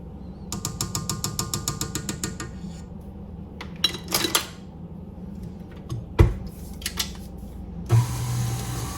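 Vanilla bean paste stirred into cookie dough ingredients in a mixing bowl: a run of quick rhythmic clinks and scrapes, then sparse knocks and taps against the bowl with a few sharper bangs, close and fairly quiet with no talk.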